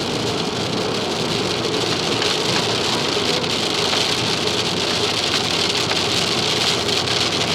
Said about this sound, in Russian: А дождь поливает.